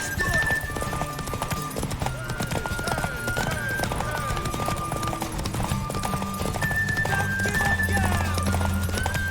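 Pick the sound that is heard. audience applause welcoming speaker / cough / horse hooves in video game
horse hooves in video game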